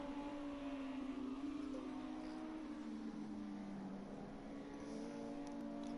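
Club sprint racing cars lapping the Oulton Park circuit, a steady moderately faint engine drone with a gradual pitch sweep as cars pass at a distance.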